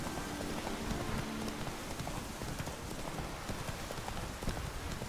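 Horse hooves clip-clop steadily in The Witcher 3, a continuous rhythmic patter heard over a dense rain-like background hiss with no talking.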